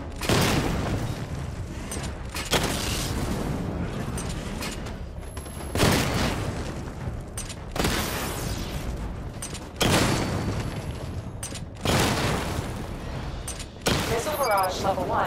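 Missile barrages fired at targets in Batman Arkham Knight, loud booming volleys that erupt about every two seconds, each burst tailing off before the next.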